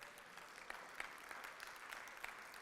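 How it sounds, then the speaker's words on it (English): Faint, distant applause from an audience in a class or lecture room, a thin patter of claps with a few sharper hits standing out. "Let's give Alice a round of applause"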